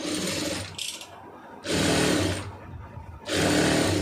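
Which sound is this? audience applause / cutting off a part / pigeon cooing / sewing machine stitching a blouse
sewing machine stitching a blouse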